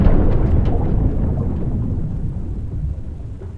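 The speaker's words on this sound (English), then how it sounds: "The ice above exploded in a deafening roar." Sound effect of Antarctic ice exploding overhead: a loud, deep, thunderous roar that starts at full force and slowly rumbles away over several seconds, with no voices.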